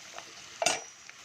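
Cissus quadrangularis (pirandai) and garlic frying in oil, heard as a faint steady sizzle with one brief louder burst of stirring midway.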